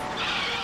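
A cartoon bus skidding to a stop in an animated children's show, a short loud tire screech held at an even level.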